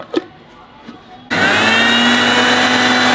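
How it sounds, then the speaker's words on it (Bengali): An electric blender starts abruptly after a few faint clicks and handling noises. It runs loud, steady and close as it blends boiled dal for halwa. "সবগুলো ব্লেন্ডার করা শেষ"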